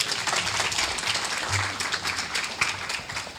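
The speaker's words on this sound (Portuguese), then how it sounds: "Vamos aplaudir aqui." Church congregation applauding continuously at a service, a dense, steady clatter of many hands throughout with no pause.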